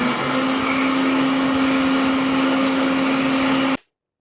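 An electric hand dryer runs in a restroom, a loud, steady whooshing roar with a constant low hum that holds without a break for nearly four seconds before cutting off abruptly into silence.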